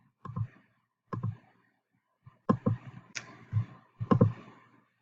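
Mouse clicks while working in the Popplet app, about a dozen crisp close taps in irregular pairs and singles, separated by brief silences.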